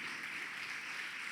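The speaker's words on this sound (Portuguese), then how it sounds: "Vamos aplaudir ao Senhor em nome de Jesus?" Congregation applauding at a church service, a steady dense wash of clapping throughout with no speech over it.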